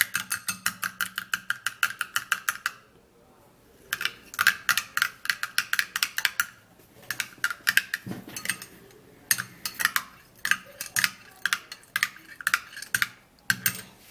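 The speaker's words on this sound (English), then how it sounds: "after stirring and mixing this all up" Egg white mixture being stirred for a homemade face mask, a utensil tapping in quick rhythmic bursts against the bowl with short pauses between runs, close and fairly loud with no talking.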